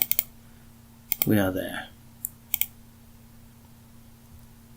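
Mouse buttons click on a computer while Doom WAD files are selected in Doomsday, a few sharp close clicks including a quick double pair, with someone speaking briefly between them.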